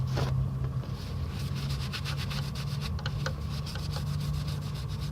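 A clean rag wipes dry a 2004 Ford F150 transmission oil pan, making repeated close rubbing strokes in a quick rhythm over a low steady background hum.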